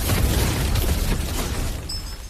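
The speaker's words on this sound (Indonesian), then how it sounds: "Langsung aja dia pun mengangkat teratai api yang ada di tangannya, meledakkan energi kuat" An energy blast released from a fire lotus in the animated series Jiandao Di Yi Xian: a loud, dense, roaring burst that fills the clip and slowly fades, heard alone without speech.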